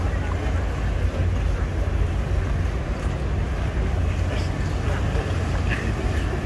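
On a busy Venice canal, a boat engine rumbles close by as a steady low drone, mixed with wind buffeting the microphone and lapping water, while people talk faintly in the background.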